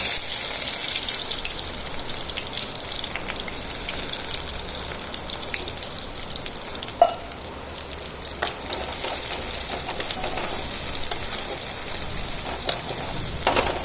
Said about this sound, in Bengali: ওই কুচি কুচি পেঁয়াজগুলো তেলে দিয়ে দেব